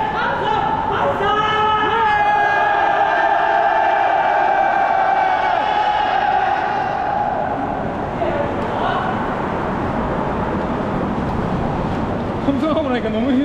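Marathon runners and supporters on a hot, humid road race course shout a loud group cheer, voices rising together into a long sustained whoop that fades into breathless chatter and road noise.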